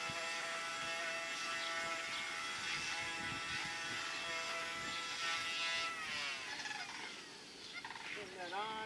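An electric grinder runs steadily with a high, tonal whine, used for trimming a sheep's hoof; the pitch wavers and shifts near the end as it meets the work, and no one talks over it.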